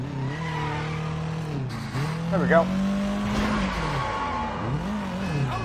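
Car engine revving and tires skidding while driving in the open-world game Sleeping Dogs, a steady drone with a rising and falling pitch sweep, partly under someone talking.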